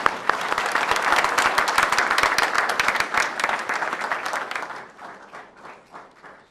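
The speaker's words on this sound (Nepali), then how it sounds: "दाजुलाई हामी ताली बजाएर स्वागत गरौँ" A church congregation applauds to welcome a pastor, a dense crowd clapping that holds strong for several seconds before thinning to scattered claps as it fades.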